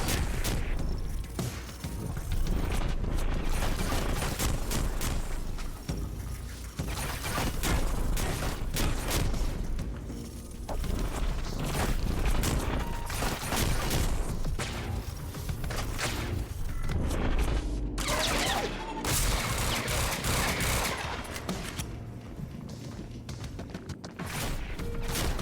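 Pistol gunfire from a RoboCop-style handgun in the video game Quantum Break, a dense stream of loud sharp shots and booms running continuously through a busy mix of impacts and crashes.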